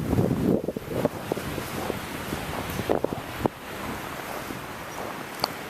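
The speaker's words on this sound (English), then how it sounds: "Pretty windy still." Strong wind after a blizzard roars steadily across the microphone in cold open air, with gusty buffeting and scattered bumps and thumps.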